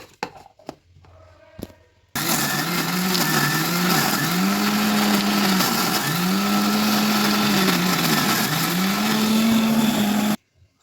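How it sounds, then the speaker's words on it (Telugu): A kitchen mixer grinder grinds corn kernels together with jaggery, a loud continuous whirring motor with a rising and falling pitch that starts abruptly after brief handling noises and cuts off sharply at the end. "ఈ మొక్కజొన్న గింజలు ఇందులోనే బెల్లం వేసి మిక్సీ పట్టుకుంటున్నాను"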